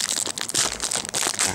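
Plastic packaging for an iPod Touch 5 case cover crinkles and crackles up close in quick, uneven bursts, a short, loud, dense burst with no voices.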